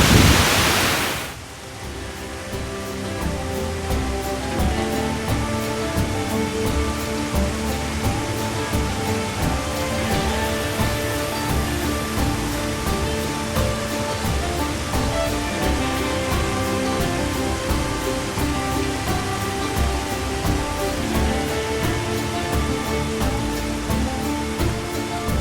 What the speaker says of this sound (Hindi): अभी इस पूरे रूट पे ऐसे अनगिनत से वाटरफॉल दिखाई देंगे जो कि बड़े ही गजब के दिखाई देते हैं।